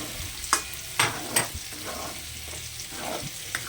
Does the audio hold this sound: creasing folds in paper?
no